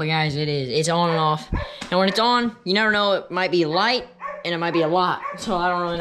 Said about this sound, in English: That's my dog barking, by the way